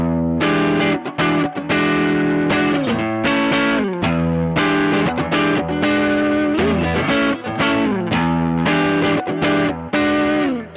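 An electric guitar runs through a Mosky Mini Screamer overdrive pedal, playing a steady bluesy riff of distorted notes and chords, loud and continuous with no talking.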